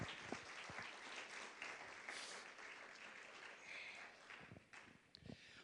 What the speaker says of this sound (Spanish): ¿Qué tal si le damos un aplauso al Rey?